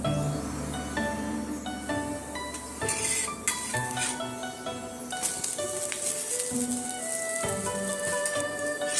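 A multigrain dosa of green gram and ragi sizzles in ghee on a pan. Soft crackling and frying hiss run throughout, broken by scattered clinks and scraping of utensils, fairly quiet and with no talk.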